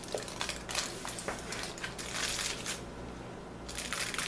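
Foil lining rustles and crinkles as a pan of chocolate peanut butter brownies is lifted out, with soft crackling bursts and light scraping against the pan over a low steady hum.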